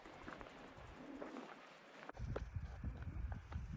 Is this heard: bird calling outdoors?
yes